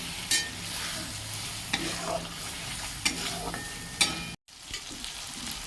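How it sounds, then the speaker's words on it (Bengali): Spice paste frying in oil for a vegetarian Bengali dish, a continuous close sizzle with periodic scrapes and knocks of a spoon stirring in the pan and one brief dropout. "মশলাটা কষে তেল ছেড়ে গেছে"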